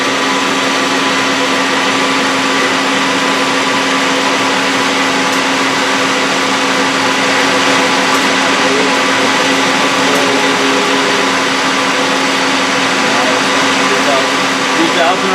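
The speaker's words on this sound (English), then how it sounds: "change the RPM for me on the main spindle" The main spindle of a Citizen M20V CNC Swiss lathe runs with a loud, steady whirring machine hum and a constant tonal whine, heard from close range without pause.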